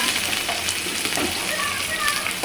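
A steady, hissing sizzle of thickly sliced onions frying in hot oil in a hot wok fills the clip, crackling continuously at close range.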